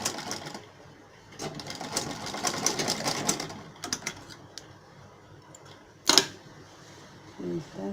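A sewing machine stitches a waterfall jacket in rapid, chattering bursts with pauses between runs, close and moderately loud, with a sharp clack partway through.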